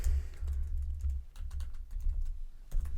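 Keys clatter as survey answer choices are typed on a computer keyboard, a steady run of light, rapid clicks over a low, rumbling background hum, with no speech.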